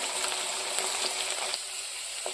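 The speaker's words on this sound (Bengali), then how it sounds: "তেলের মধ্যে ছেড়ে দিয়েছি, আমি এটাকে বেশ একটু লাল লাল করে ভাজবো" Potatoes sizzle in hot oil in a pan, a dense, steady frying hiss close by that runs throughout, with small crackles and pops and no voices.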